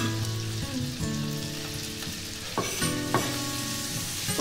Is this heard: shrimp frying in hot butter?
yes